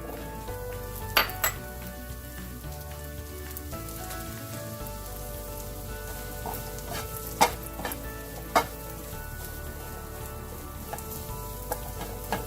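Mushrooms sauté in butter in a pan on a stovetop, giving a steady close sizzle dotted with small pops and occasional stirring clicks.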